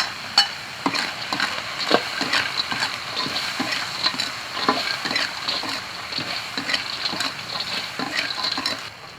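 Sichuan peppercorns and chili sizzle and crackle in hot oil in a wok, with irregular scraping stirs of a spatula over a steady frying hiss, close and without speech.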